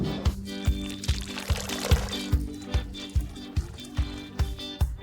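A drink is poured into a glass while a cocktail is being made, giving a steady liquid pour with a regular rhythmic pulsing. The pour is close and clear, with no talking.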